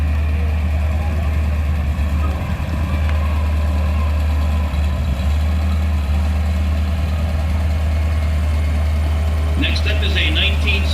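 A 1957 Chevy 210 wagon's engine idles and rumbles steadily at a small-town parade, a low constant drone that runs under an announcer's voice, with a brief higher chirp near the end.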